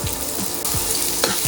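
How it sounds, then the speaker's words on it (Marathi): Onion fries in hot oil in a kadhai, giving a loud, close, crackling sizzle with quick rhythmic scrapes of stirring across the brief stretch. "तेल तापलं की त्यात आता आपण हा कांदा घालणार आहोत."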